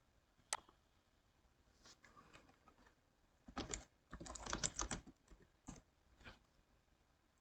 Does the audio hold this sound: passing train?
no